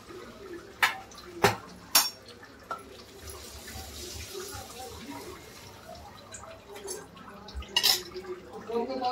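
Cumin seeds sizzle in hot oil with a continuous close hiss, broken early by a few sharp pops and crackles and again near the end.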